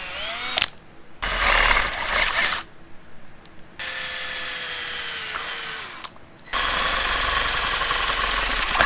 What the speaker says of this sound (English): Now you can see both holes are already drilled.